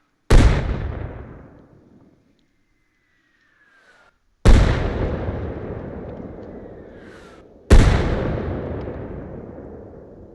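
M252 mortar rounds in Arma Reforger: three big separate blasts, each a sharp loud crack fading into a long rumbling tail, with a faint whistling incoming round heard in the gaps between them.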